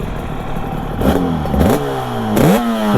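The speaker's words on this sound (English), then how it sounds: "It's got Nikon pipes on it, so they do sound pretty fantastic" Suzuki RG500 two-stroke motorcycle fitted with Nikon exhausts, revved in repeated rising blips that climb and drop back three times, loud and close, with no talking.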